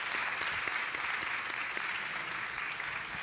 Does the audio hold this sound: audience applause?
yes